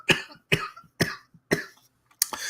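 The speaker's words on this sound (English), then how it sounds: "Don't mind me coughing." One person coughs five times in a row at even half-second spacing, each cough loud, close and dry, with no talking between them.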